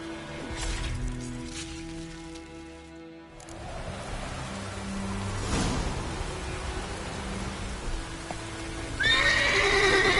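Horse whinny from The Witcher 3 game, a loud, long neigh at close range, followed by hoof clip-clop and steady rain-like noise, with a bright second whinny near the end.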